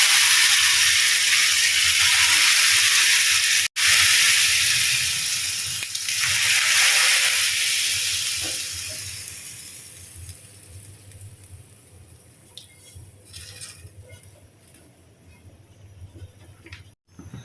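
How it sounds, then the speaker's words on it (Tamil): Soaked lentils for dal curry pour from a container into a pot, a loud close hissing rush of water and grains for several seconds that fades to quieter clinks and small movements. "இப்போ பருப்பை வந்து நம்ம இதில் ட்ரான்ஸ்ஃபர் பண்ணி ஊற்ற போகிறோம்"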